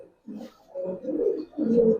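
Giribaz pigeons coo in three or four low, rolling phrases close by, with no voices around them.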